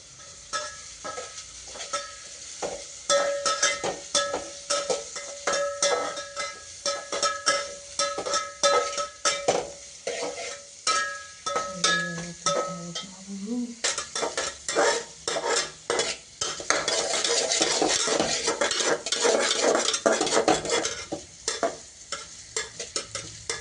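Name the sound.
onions frying and being stirred in a pan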